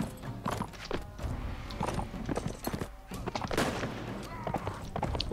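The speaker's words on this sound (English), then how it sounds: "Hey, that's my horse!" Horse hooves clip-clop in the Mount & Blade: Warband video game, set within a busy battle mix of rapid thuds, scattered shots and clatter, with someone talking at times.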